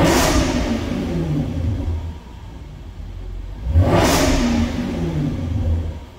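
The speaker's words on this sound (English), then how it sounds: "let's go ahead, give it a couple revs." A 2012 Jaguar XKR coupe engine revs up twice to about 4,000 rpm, each rev swelling into a loud growling roar before settling back to a rumbling idle.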